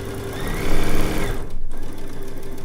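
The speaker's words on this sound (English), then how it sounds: "Let's get our first stitches going." A sewing machine stitches quilt pieces together in a rapid, even mechanical whir, close and loud, pausing briefly before running on at a steady pace.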